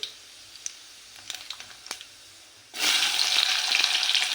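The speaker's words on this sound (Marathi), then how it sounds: "आता फोडणी करून घेऊया फोडणीमध्ये मोहरी" Mustard seeds and cumin dropped into hot oil for a tempering, first a few faint scattered pops and clicks, then a sudden loud, continuous crackling sizzle near the pan.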